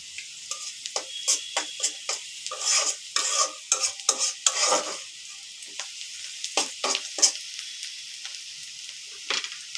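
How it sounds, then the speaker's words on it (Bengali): Cumin seeds sizzle in hot oil for tempering, crackling in quick uneven bursts with short gaps, close and bright, as a spoon stirs the pan. "এরপর আমি দিয়ে দিব জিরা ফোড়ন"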